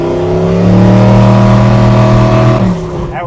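A twin-turbo, carbureted big-block engine mounted mid-engine in a truck revs loud and close, its throaty drone swelling and holding before dropping off sharply near the end.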